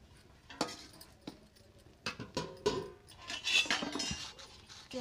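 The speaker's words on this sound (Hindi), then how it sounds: "उतार लेती हूँ कढ़ाई को।" A kadhai (wok) is lifted off the stove while tomato chokha is being made, giving scattered metallic clinks and scrapes of pot and utensils, close and irregular, with no talking.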